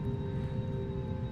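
Airbus A330neo airliner engines in the X-Plane flight simulator, a steady whir with a sustained high whine running evenly underneath, continuous and moderately loud.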